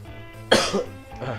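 A single sharp cough breaks out mid-clip, followed by a softer throaty rasp, close to the microphone.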